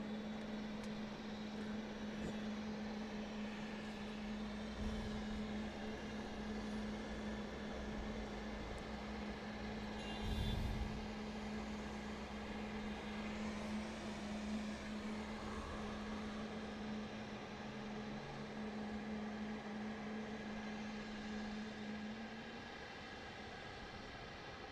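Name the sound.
aircraft taking off from runway 34 left, Sydney Airport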